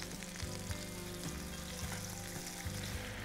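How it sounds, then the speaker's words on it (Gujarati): Vegetables and yogurt sauté in a pan with a soft, steady sizzle and periodic stirring scrapes, heard quietly and close for about three seconds, with no talk. "ઓકે, એને થોડી વાર આ રીતે સોતે થવા દેવાનું અને પછી એમાં શાક નાખવાનું."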